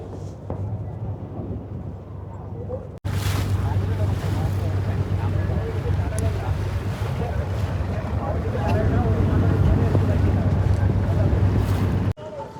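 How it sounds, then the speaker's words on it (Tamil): A motor boat crossing open water toward Nainativu island, with a loud steady engine drone, wind buffeting the microphone and water rushing against the hull, running throughout the clip. "இந்த படகுல தான் போகிறோம்"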